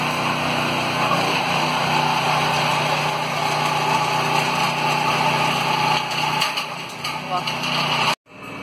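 A machine with a robotic hand lifts roof sheets during roofing work on a house, its engine giving a steady, loud drone that runs without a break and cuts off abruptly near the end.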